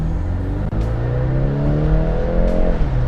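A 2024 BMW 430i xDrive Convertible pulls out into the right lane and accelerates hard, its engine note climbing steadily through a gear change, loud and close throughout.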